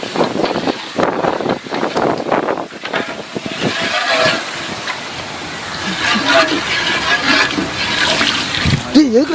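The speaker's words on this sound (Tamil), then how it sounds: "அரிசிக்கு ஏற்ற மாதிரி தண்ணி ஊற்றிக்கோங்க." Pouring water splashes and gurgles steadily into a pot of rice for egg biryani, with some wind-like rush and clatter, close by.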